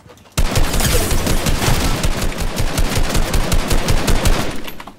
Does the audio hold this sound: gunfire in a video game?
yes